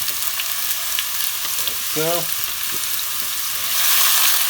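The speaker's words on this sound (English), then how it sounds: "So we're going to just scrape it into the pan. It's going to sizzle like a mad sizzly thing." Curry paste sizzles loudly as it is scraped into a hot pan for a Malaysian chicken curry, a dense, steady hiss throughout with a brief spoken word partway through.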